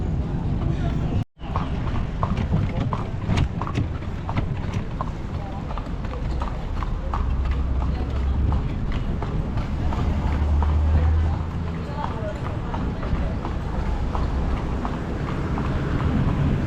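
Horse hooves clip-clop in a steady rhythm on a hard street near a cruise port, close and loud throughout, with people chatting over them and a brief dropout near the start.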